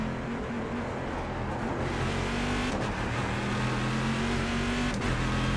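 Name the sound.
race car engine in iRacing video game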